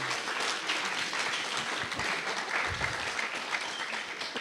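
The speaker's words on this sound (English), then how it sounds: "a big round of applause for Roland" Sustained audience applause for Roland at a student invention-pitch event, a steady broadband wash of many hands clapping at even loudness for the full stretch, with faint low murmurs underneath.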